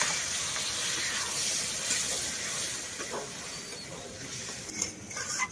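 Water poured into a hot pan of spiced sea crab curry, a steady loud hiss and sizzle close up that holds for several seconds, with a few faint bubbling pops near the end and no talk.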